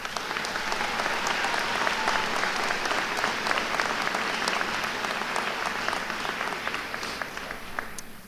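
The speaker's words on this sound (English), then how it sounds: "Let us now applaud these graduates." A large crowd claps steadily and loudly for several seconds at a college commencement ceremony, a dense wash of applause that tapers slightly at the end.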